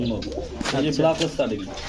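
Male pigeons coo softly and repeatedly close by at a pigeon sale, with a voice talking over them.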